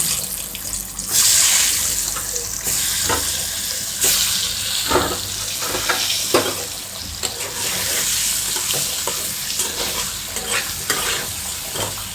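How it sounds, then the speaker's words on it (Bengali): Loud, steady sizzling of an egg frying in hot oil in a wok, with intermittent scraping from a utensil in the pan, no voices. "এখন আমি হচ্ছে কড়াইতে গরম তেলে ডিমটা ফ্রাই করে নেব"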